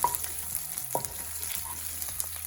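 Garlic fries in a pan over a medium flame, giving a soft, steady sizzle with faint scattered crackles and a light clink.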